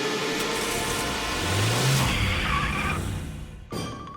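A cartoon car revs loudly and pulls away with a rising engine whine and a brief tire screech, then cuts off sharply into a short quieter tail.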